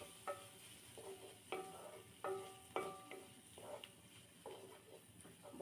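A spoon clinks and scrapes in a pan while fried spices and yardlong beans are stirred, giving a series of distinct metallic taps at an irregular rhythm over a faint sizzle, close and quiet.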